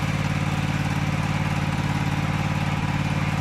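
A Husqvarna 24V54 lawn mower engine runs steadily after a repair, a close, even, rapidly pulsing putter that holds constant throughout without talk.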